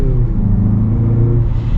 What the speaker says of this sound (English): wait for this truck to get up and then we'll see the acceleration.